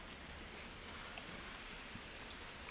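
Steady, active rain falling outdoors as a faint, even hiss of drops with occasional louder taps, continuous and with no voices.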